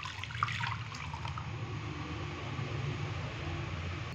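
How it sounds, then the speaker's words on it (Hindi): Lukewarm milk pours into a bowl in a steady, close liquid stream, a soft continuous rush of flowing liquid with a brief clink near the start and no talking. "तो एक बाउल के अंदर दूध डालेंगे।"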